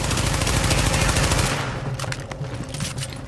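MP5 submachine gun fire in the video game The Division, a loud, dense rapid burst filling the first second and a half, then scattered single shots and impacts fading out, with no talk over it.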